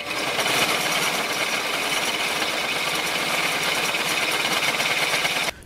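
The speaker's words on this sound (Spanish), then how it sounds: "Le pasamos taladro a las tuercas de 5 octavos" A power drill grinds steadily through 5/8-inch steel nuts, a continuous harsh whir with a gritty rattle that runs without pause and cuts off at the end.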